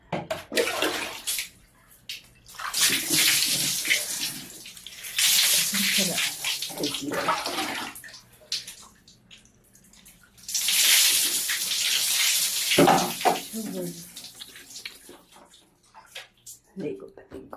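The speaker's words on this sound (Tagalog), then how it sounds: "So, shower tayo. Shower." Shower water gushes in a bathroom while a baby is bathed, a loud hissing spray that starts and stops in several long bursts, with people talking between the bursts.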